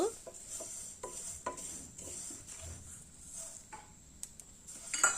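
Coriander seeds and fenugreek dry-roasting in a pan for mango pickle masala, with quiet scraping and stirring, light clinks of a spoon against metal, and a faint sizzle underneath.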